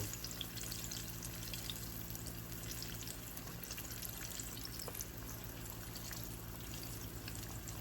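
Oxtails fry in oil with a steady, even crackling sizzle at moderate distance, continuous throughout with no talking.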